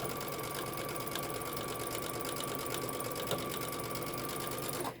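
A Brother Dream Creator Innov-is VM 5100 sewing machine topstitches with a zipper foot, a close, loud, continuous mechanical whir with a rapid rhythmic needle beat that stops abruptly at the end.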